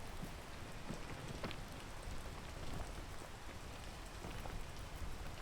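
Steady rain falls on outdoor surfaces at a climbing spot, a soft even hiss with scattered close drip taps, faint and unbroken with no talk.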